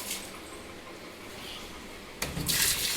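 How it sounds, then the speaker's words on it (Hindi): Water gushing from a tap into the drum of a Whirlpool top-load washing machine that is reporting a fault, a steady low rush for two seconds that swells into a louder, splashing fill near the end. "चलिए मैं इसमें पानी भर देता हूँ।"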